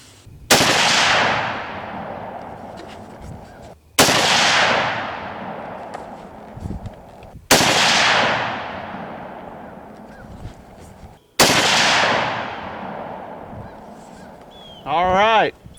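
Four loud 30-06 rifle shots with 168gn Sierra Match King rounds, spaced a few seconds apart, each a sharp crack followed by a long decaying echo across an open range, then a brief electronic beep at the end.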